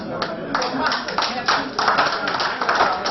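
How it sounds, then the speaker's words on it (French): Audience applauding Madame Comba at a testimonial gathering, a steady patter of clapping with bursts that swell and ease over a few seconds, fairly close, with some voices mixed in. "Applaudissez encore pour Madame Comba."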